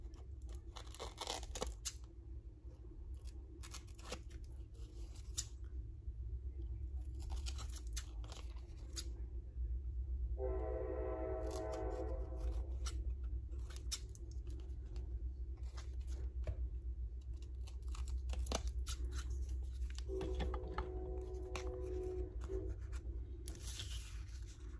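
Scissors snip away excess from an altered playing card in a quiet room, with a few faint, close cuts and paper rustles spread out over a long stretch of near silence.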